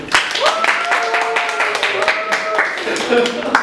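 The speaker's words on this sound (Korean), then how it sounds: "박수" A small group claps briefly at the Federation of Korean Industries in Seoul while people talk over it.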